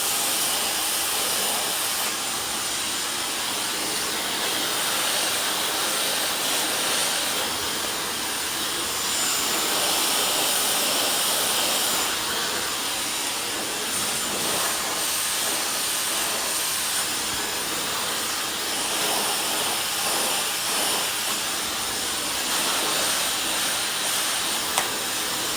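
A blow dryer roars continuously while textured hair is dried with a brush during a blowout. The loud, airy whoosh holds steady and close for the whole stretch, with only slight shifts in tone.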